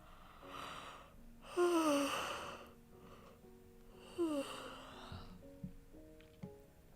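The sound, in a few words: yawning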